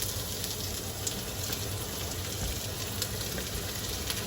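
Onion and mushroom frying in a pan at a catch-and-cook meal, a soft steady sizzle with faint crackles and pops, quiet and continuous with no talking.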